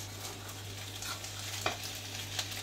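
Bulgur galette frying in a pan, a soft steady sizzle with faint crackles and a couple of light taps, no talking.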